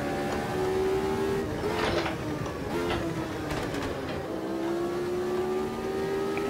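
Lotus Type 72E racing in Automobilista 2 at Kyalami, a continuous engine drone with pitch sweeps as revs drop, crackling exhaust pops breaking through on the downshifts.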